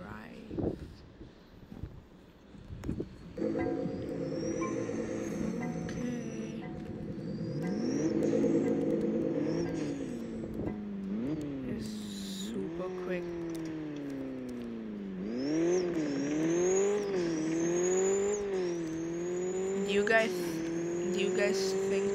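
A car driven in the Roblox video game, its engine tone rising and falling through gear changes and revs over a steady rumble, with occasional tire squeal, fairly close and continuous throughout.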